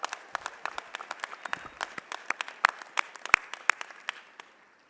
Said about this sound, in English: let's all give a big round of applause to those families